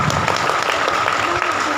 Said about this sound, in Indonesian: Tepuk tangan dong untuk kalian semua.